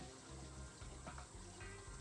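Water pouring into a 60 litre tub used for a guppy breeding bin, a steady, faint hiss and gurgle of filling liquid running without pause.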